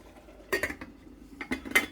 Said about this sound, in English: Pop a lid on this